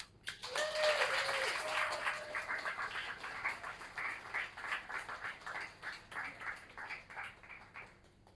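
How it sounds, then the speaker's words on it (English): An audience claps at a book reading, the applause starting abruptly, peaking early, then thinning into uneven, scattered clapping that tapers off toward the end; a brief whistle-like tone sounds near the start. "please welcome, applaud for a while, Cara Gormally."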